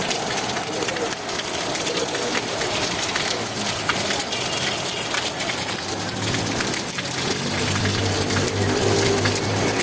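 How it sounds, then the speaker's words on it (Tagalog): Mountain water runs and drips like rain in an outdoor bathing area at a beach resort in Real, Quezon, a steady dense hiss of spattering water at moderate level throughout, with no clear voices. "yung naririnig nyo pala na parang ulan na pumapatak, dito nga pala yan sa kanilang paliguan"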